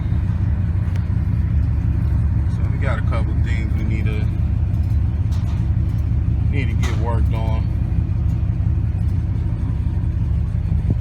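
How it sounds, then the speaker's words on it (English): A 2009 Nissan Titan Pro-4X truck idles with a steady, loud low rumble that runs unbroken beneath someone speaking nearby. "So all in all, we got us a good working truck here. I mean, it sounds great."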